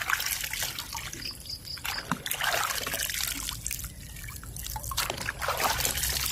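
Water poured over Malaysian Serama chickens during a bath, faint intermittent trickling and splashing in uneven bursts against a low background hum.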